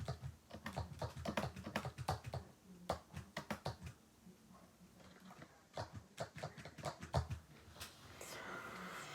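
Sharp, crisp keystrokes come from a Braille display keyboard, typing in quick irregular bursts separated by short pauses, close and fairly quiet.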